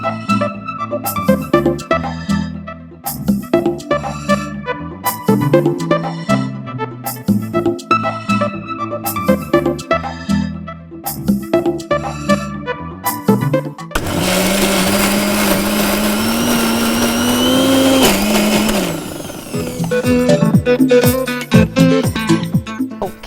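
Mixer grinder blending masala paste for a country chicken curry, a loud steady high whirring run of about five seconds in the middle, between bursts of music.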